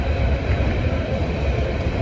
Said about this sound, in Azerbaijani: 12:06-da aeroporta gedən qatar var.